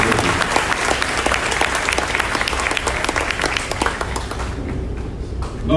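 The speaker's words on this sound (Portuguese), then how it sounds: "gostaria de pedir aqui, de fato, uma salva de palmas para todos vocês que estiverem diretamente aqui" Dense, steady audience applause fills a convention hall at the LAFEPE 2020 event, loud and continuous before thinning slightly near the end.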